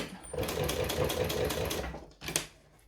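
A sewing machine stitches a fabric strap in a quick, even run of needle strokes lasting about a second and a half, followed by a pause and a brief clatter.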